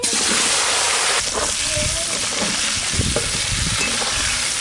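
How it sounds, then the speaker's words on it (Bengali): Hissing, crackling fry of cut tomatoes in hot oil in a wok, loud and continuous, with scraping stirs and a voice briefly underneath. "ওই তেলে কেটে ধুয়ে রাখা টমেটোগুলো ভেজে নেবো।"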